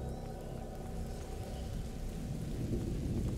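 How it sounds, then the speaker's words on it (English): Steady rain pours through a dark medieval village setting in A Plague Tale: Innocence, with low rumbling thunder underneath, forming a continuous dense wash throughout with no talking. "Lucas, Hugo, stay out of the rain."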